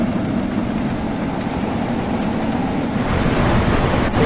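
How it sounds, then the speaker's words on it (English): Steam locomotive running in a Train Sim World cab view, Manchester London Road to Liverpool Lime Street line: a loud, steady, dense rumble and roar inside the cab, continuous throughout with no speech. "these trains, if you haven't gathered already, are quite loud inside the cab"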